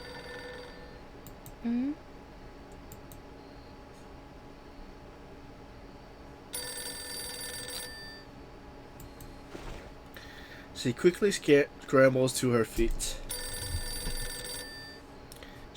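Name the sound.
telephone bell ringing in the Reverse: 1999 video game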